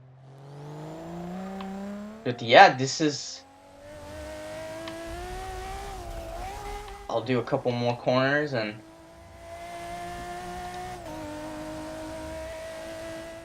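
A drift car's engine in Forza drones steadily at mid pitch, rising and falling as the throttle changes, while someone talks over it in two short bursts.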